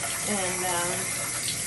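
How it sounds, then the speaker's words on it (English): Shower water running as bath water warms up, a steady broadband rush of spray close by, with a voice speaking briefly over it. "Getting the bath water warmed up, shower water."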